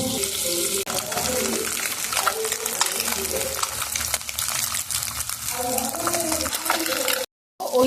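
Potatoes frying in hot oil, a continuous close crackle and bubbling sizzle that briefly cuts out near the end before resuming.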